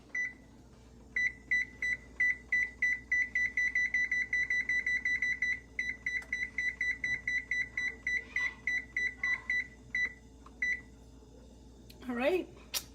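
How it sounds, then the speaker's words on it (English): A kitchen oven timer beeps in a long run of steady, evenly spaced electronic bleeps that pause briefly and resume, sounding close and clear over a low background hum. "Set our timer."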